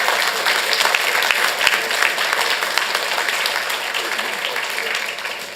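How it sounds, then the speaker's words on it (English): Steady, dense applause from a city council meeting audience cheering young athletes, loud and continuous for the full stretch with no speech over it. "So we're gonna give a round of applause for the youngsters."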